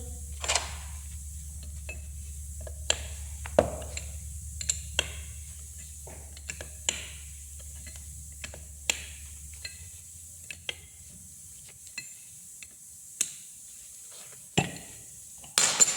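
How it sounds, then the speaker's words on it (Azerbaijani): Small metal tool clicks and light clinks come from a bolt being loosened on an air distributor cover, scattered sharp taps at irregular intervals over a faint low hum that stops partway through. "İlk öncə qapağın üzərindəki kiçik bolt açılır."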